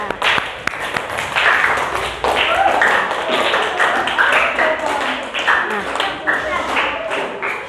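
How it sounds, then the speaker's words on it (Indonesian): Students in a classroom applaud group 5 with a burst of brisk, fairly close clapping that keeps going for several seconds, while a teacher's voice carries over the top. "Aplaus untuk kelompok 5."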